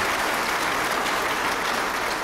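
An audience at a science building dedication ceremony applauds foundation board members, steady dense clapping from a large room that continues evenly from start to finish.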